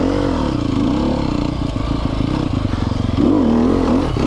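A 2020 Sherco 300 SEF Factory off-road motorcycle engine rumbling loud and close while ridden over rocky ground, with the throttle rising and falling and a rattle of clatter running underneath.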